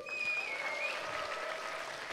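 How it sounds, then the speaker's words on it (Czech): Applause from an esports tournament crowd during a prize announcement, a steady wash of clapping for about two seconds with no talk over it. "prosím, potlesk"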